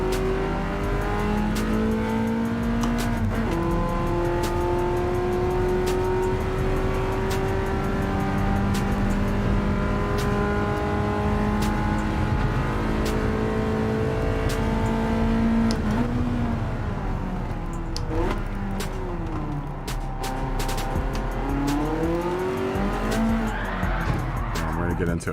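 A race car in Gran Turismo 7 revs hard and steadily, its engine tone climbing and falling through gear changes with tire squeal in the corners, loud and continuous under occasional talk.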